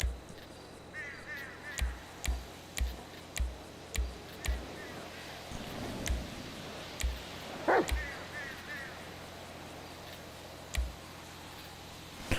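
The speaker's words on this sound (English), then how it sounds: "Is your dog being aggressive?" A dog barks aggressively in GTA V with the LSPDFR mod, a rapid run of loud, sharp barks that pauses and then returns with a few more, while someone talks faintly underneath.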